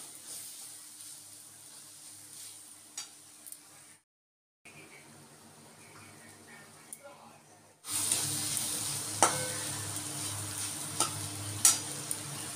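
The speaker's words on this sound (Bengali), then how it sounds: "আর এখন এই শাপলাটা রান্না করে নিচ্ছি" Water lily stems (shapla) cooking in a pan, a quiet sizzle with occasional stirring clicks that breaks off briefly, then returns louder and fuller with scattered scrapes.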